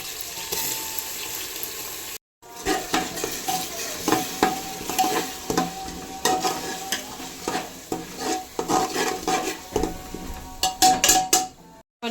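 Ginger paste hits a hot pan for a biryani made with Mubarak Golden rice, sizzling steadily while a spoon scrapes and stirs in repeated clinks and scrapes close by, after a brief silent gap near the start.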